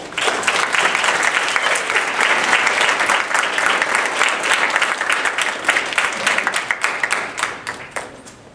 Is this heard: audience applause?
yes